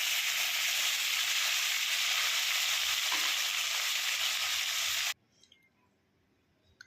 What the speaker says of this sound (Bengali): কড়ার মধ্যে আমি বেশি করে তেলটা দিলাম, অল্প অল্প করে মাছ ভেজে নেব।